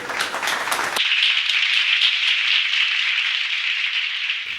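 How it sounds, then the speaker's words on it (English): Applause at a graduation in the video game The Crooked Man: a steady, dense wash of clapping that starts abruptly after a brief noisy lead-in and holds at an even loudness until it cuts off near the end. "And to my fellow graduates, I offer you a round of applause,"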